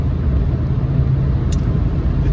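Steady low engine rumble and road noise from inside a moving car, loud and constant, with a brief higher rattle partway through and no talking.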